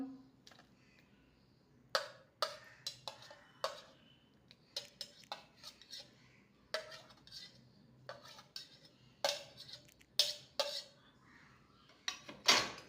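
A spoon clinks and scrapes against a pot while egg curry with fried onion, garlic and tomato is mixed, sharp irregular taps spaced through a quiet kitchen, close and fairly clear.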